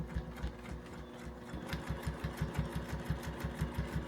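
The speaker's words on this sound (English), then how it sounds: "So I'm just sewing along that line to get started." A home sewing machine stitches a quilting line at a long stitch length, a quiet, even, rapid mechanical chatter running steadily throughout.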